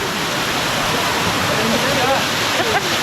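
Masila waterfall in the Kolli Hills roars as a loud, dense, steady wash of falling water, continuous and close, with faint voices barely audible beneath it.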